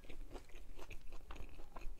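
Crunchy bites into crispy seasoned fries at a restaurant, a close run of quick crisp snaps and chewing crunches repeating every half second or so, with no talking.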